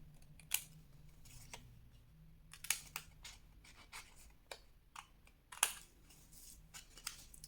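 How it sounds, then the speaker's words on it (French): Scissors cutting paper strips for a scrapbooked advent calendar, with a series of crisp, close snips at irregular intervals over a quiet background. "vous allez couper ici au niveau du petit rectangle qui s'est formé"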